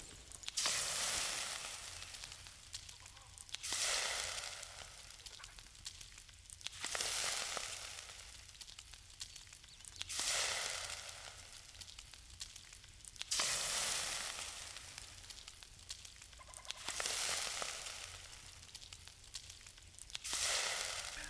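Food sizzles in a cooking pot in the survival game Enshrouded, repeating as six or so loud frying bursts about three seconds apart, each hissing strongly before briefly dropping away.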